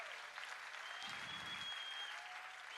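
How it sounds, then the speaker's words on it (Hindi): A crowd applauds loudly and steadily at an indoor gathering, a thick, even roar of many hands clapping that carries on throughout, with a faint thin tone and a brief low rumble underneath. "इसके लिए एक जबरदस्त तालियां होनी चाहिए"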